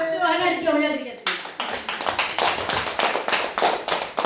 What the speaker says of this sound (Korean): 박수 하나님께 올려드리겠습니다.